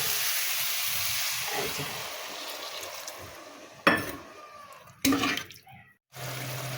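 Water poured into a pan of katla fish curry, a steady broadband rush of splashing and hissing that runs for several seconds, then breaks into a couple of short bursts before cutting to near silence.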